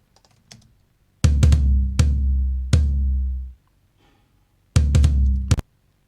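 Superior Drummer sampled toms played dry with no processing, a few sharp isolated hits and quick fills, each deep round boom ringing out for a second or more, with gaps of silence between phrases.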